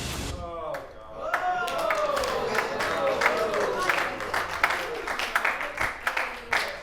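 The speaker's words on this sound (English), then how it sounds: "That was my favorite middling applause of the week." Studio audience applause and cheering swell, then thin into scattered, uneven claps toward the end, mixed with some whoops.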